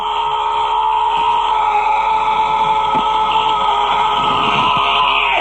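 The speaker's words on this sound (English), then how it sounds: "That's the longest scream I ever heard." A single long, sustained scream holds steadily for several seconds, loud and strained, with faint background noise beneath it.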